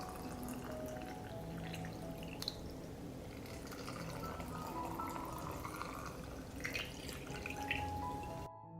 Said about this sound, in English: I pour water into the jars to cover the blueberries.